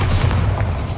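A Bombarda blasting spell in Hogwarts Legacy detonates as a short, heavy, rumbling boom that fills the whole moment at close range.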